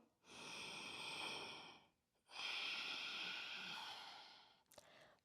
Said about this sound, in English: 5 breaths for 1. Slow down your breathing.